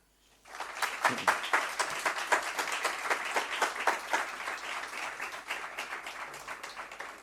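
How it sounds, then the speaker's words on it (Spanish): Sustained applause from a congress audience at an honorary membership ceremony, dense overlapping clapping starting after a brief pause and continuing steadily at close range. "Y nada, un fuerte aplauso"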